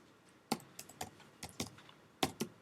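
Soft clicks of typing on a computer keyboard come in a sparse, irregular run of about a dozen keystrokes in a quiet room.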